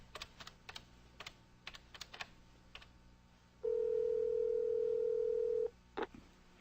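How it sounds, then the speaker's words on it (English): A desk telephone is dialed after keys are tapped: a steady dial tone holds for about two seconds, then short touch-tone beeps follow, quiet and close with no talking. "I suppose I could call Carlos on his cell and make that suggestion"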